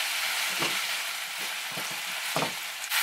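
Garlic powder sizzles in a frying pan, a steady close hiss of frying with a few soft stirring scrapes and clicks over about three seconds, no talking.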